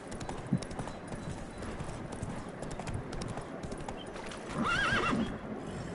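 Roach, the horse in The Witcher 3, gallops with a steady rapid clip-clop of hooves over continuous game ambience, then lets out a brief whinny near the end.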